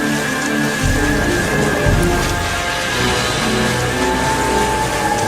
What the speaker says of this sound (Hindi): अब की बार इतना तेज बारिश आ रही है